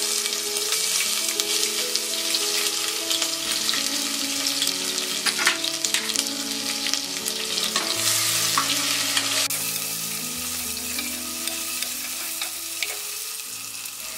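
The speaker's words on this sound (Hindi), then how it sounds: "जीरा फ्राई होने के बाद हम डालेंगे इसमें ginger garlic green chilli paste" Ginger garlic green chili paste frying with cumin seeds for a green moong dal curry, a steady loud sizzle with stirring clatter throughout, no talking.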